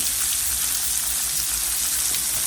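Chopped onions fry in a teaspoon of oil in a pan, giving off a steady, dense sizzle that holds even and unbroken from start to finish, close and fairly loud, with no voices.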